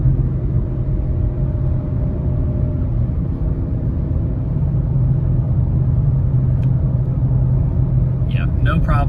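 An Audi RS6 Avant in dynamic mode accelerates up to speed, heard from inside as a steady, loud low engine and road rumble that holds throughout, with a brief higher sound near the end.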